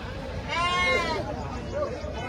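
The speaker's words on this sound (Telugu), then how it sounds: "ప్రతి ఆదివారం ఇక్కడ పొట్టేండ్లు, మేకలు, గొర్రెలకు సంబంధించిన మార్కెట్ అయితే జరుగుతుందండి." Sheep and goats at a Sunday livestock market in Pileru, Annamayya district: one clear, wavering bleat rises near the middle against a steady murmur of crowd and animal noise.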